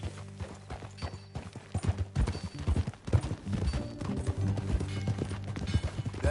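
Horse hooves clip-clop in a steady gait in a video game, against a busy backdrop of layered tones and music, with no talking.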